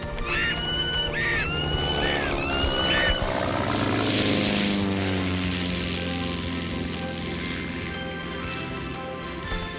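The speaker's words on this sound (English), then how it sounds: "That was a crop duster." A crop duster airplane passes overhead in a cartoon scene, its propeller drone swelling loud then fading away, with sweeping tonal bands mixed among music and sound effects.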